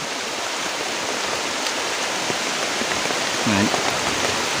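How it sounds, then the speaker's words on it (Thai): Steady heavy rain roars as a dense, continuous hiss in a forest, with a brief murmur of a voice near the end. "ฝน ตกมาค่อนข้างแรงเลยทีเดียวนะครับ"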